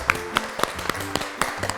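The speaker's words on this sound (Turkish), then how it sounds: "Bir alkış gönderiyoruz." Sparse, irregular handclaps ring out from a small studio audience on a Turkish television game show, a handful of sharp claps spread across a couple of seconds rather than a dense ovation.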